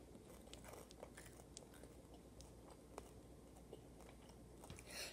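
Crunchy caramel M&Ms are bitten and chewed close up, with quiet, irregular crunches and small clicks at a low level, ending in a sharper burst.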